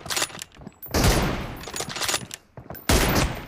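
Bursts of close, loud gunfire in PUBG Mobile, several rapid volleys separated by short gaps, with a final heavy burst near the end.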